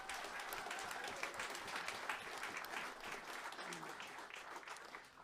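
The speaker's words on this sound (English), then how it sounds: "So huge round of applause for them as well" A concert audience at a traditional Irish music event in St. Louis gives a sustained round of applause, dense and even throughout, heard from within the room.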